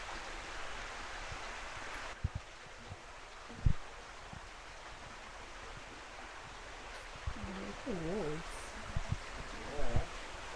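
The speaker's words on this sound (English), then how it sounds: "I think I can hear a waterfall." In the Greek countryside, a waterfall and stream make a steady broadband rush from a moderate distance. Occasional footsteps and brief voice-like sounds rise above it.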